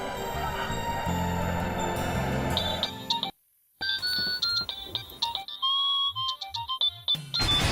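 An office call comes in on a phone with an electronic melodic ringtone. Bright tonal chimes play over background music, cut off by a brief silence, then return as scattered repeating beeps.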